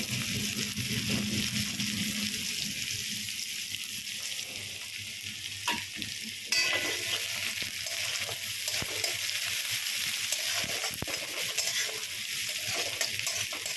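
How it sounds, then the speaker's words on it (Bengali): Chopped onion frying in hot oil with nigella seeds in a home kitchen pan, a steady close sizzle running throughout with occasional stirring scrapes and clinks. "কালো জিরেটা একটু ভাজা হলে ওর মধ্যে কেটে রাখা পেঁয়াজটা দিয়ে দেব"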